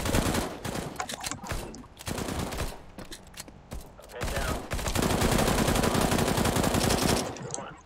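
Automatic gunfire in a video game: rapid, loud machine-gun bursts break into short volleys and then a long sustained stretch of fire, with some voice mixed in.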